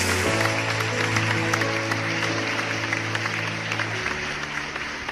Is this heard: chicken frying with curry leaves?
no